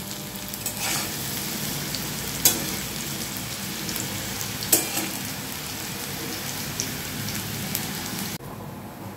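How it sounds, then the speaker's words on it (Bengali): Potatoes frying in hot oil in a pan give a steady, even sizzle and crackle throughout, with a couple of brief clinks, and nobody speaks. "ভাজা আমার অনেকটাই হয়ে গেছে। এবার আমি এগুলো তুলে নেব,"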